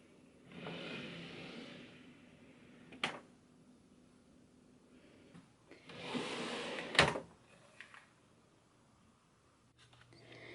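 Makeup drawer opened and closed: soft sliding rustles, then a sharp knock near three seconds, and a louder slide ending in a clatter near seven seconds, all faint and close in a quiet room.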